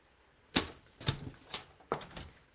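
Misty Moonlight cardstock being cut down to size, four distinct crisp snips or trimmer chops spaced about half a second apart, close and clear in a quiet room.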